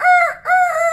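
A person imitates a rooster crowing with their voice, two loud, close, drawn-out tonal cock-a-doodle calls separated by a brief breath.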